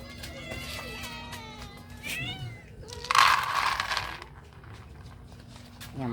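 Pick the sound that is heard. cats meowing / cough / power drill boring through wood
cats meowing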